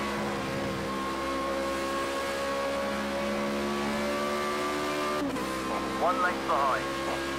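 Formula Renault 3.5 single-seater race car in Project CARS 2, its engine holding a high, steady whine before a sudden drop and quick revving shifts, with a commentator talking over it.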